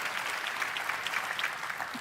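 An audience at Google I/O 2025, a tech conference, applauds in a faint, distant, even patter of many hands lasting a couple of seconds, with no talk over it.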